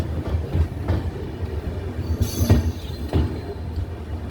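The Howrah–Bolpur Shantiniketan Express (12337) arrives at Bolpur Shantiniketan station, its wheels giving low rumbling rail clatter with a few sharp squeals and clacks.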